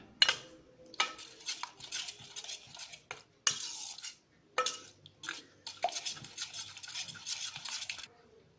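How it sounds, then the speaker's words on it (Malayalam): A spoon stirs curd into mango pulissery, a Kerala Onam sadya dish, in a pot, giving a series of close scraping and clinking bursts with short pauses between strokes and no talking. "ഇനി ഇതിൻ്റെ കൂടെ തൈരും കൂടെ ചേർത്ത് കൊടുക്കാം. നന്നായിട്ട് ഇളക്കി യോജിപ്പിക്കാം."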